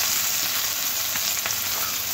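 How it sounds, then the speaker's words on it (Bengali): Sliced onion fries in oil with panch phoron, giving a steady, close, dense sizzle with faint scraping from stirring and no talk over it. "পেঁয়াজটাও তেলের মধ্যে নাড়াচাড়া করে হালকা করে ভেজে নিতে হবে।"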